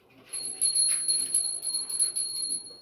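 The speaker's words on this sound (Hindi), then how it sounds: "अम्मा मैं घंटी बजा दूं?" A small high-pitched bell rings rapidly and repeatedly for a couple of seconds, close by, with faint voices in the background.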